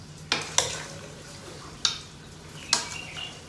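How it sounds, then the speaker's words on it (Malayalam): Beef pieces are mixed with masala in a cooker, with four or five sharp scraping clinks of a utensil against the metal pot at uneven intervals over a low, quiet background. "നല്ല അടിപൊളിയായിട്ട് എല്ലാ മസാലയും എല്ലാ പീസിലും എത്തക്ക രീതിയിൽ നമുക്ക് മിക്സ് ചെയ്യാം."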